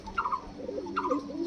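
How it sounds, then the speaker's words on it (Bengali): Caged Giribaz pigeons coo nearby, two soft rolling calls spaced apart with low murmuring between them. "খুব ভালো মানের পায়রার বাচ্চা দেখতে পাচ্ছেন, দুর্দান্ত কোয়ালিটির"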